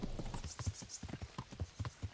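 Horse hooves trot at a steady, rhythmic clip-clop in the medieval video game Kingdom Come: Deliverance, close and clear with no talk over them.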